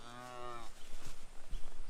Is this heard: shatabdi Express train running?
no